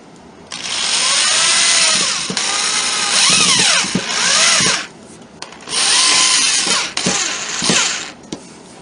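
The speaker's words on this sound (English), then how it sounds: "The door is also assembled using 1 1/4 inch pocket hole screws, and again clamps are used to hold the boards in alignment while they are screwed together." A power drill drives 1 1/4 inch pocket hole screws into clamped wooden boards for a medicine cabinet door, several loud whirring bursts that rise and fall in pitch, separated by short pauses.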